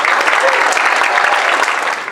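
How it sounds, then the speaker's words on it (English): A crowd at an Awards of Excellence ceremony in Austin, Texas applauds with dense, steady clapping that fills the whole stretch at an even, fairly loud level. "So please, a round of applause for Mr. Adolf Ortiz, and thank you all very much."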